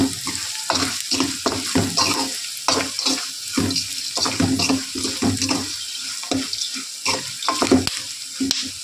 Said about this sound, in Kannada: ಇದಕ್ಕೆ ನಾವು ಎಣ್ಣೆಯಲ್ಲಿ ಚೆನ್ನಾಗಿ ಈ ಥರ ಬಾಡಿಸ್ಕೊಳ್ಬೇಕು